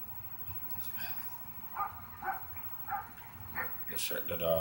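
In the Brothers: A Tale of Two Sons video game, a dog gives a series of short, fairly faint barks and yips, spaced a second or so apart, amid quiet game ambience.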